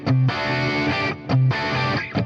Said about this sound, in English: The sound you're hearing right now is the crunch tone that I used for the performance track.